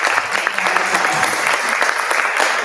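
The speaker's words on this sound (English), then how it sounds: "Please give them a round of applause." Sustained audience applause for conference panelists, steady dense clapping filling the room, fairly loud and close throughout.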